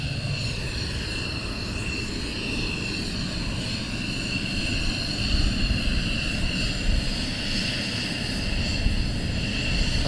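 Military jets taxi at RAF Lakenheath in a steady, loud engine roar that rises slightly partway through. No one speaks.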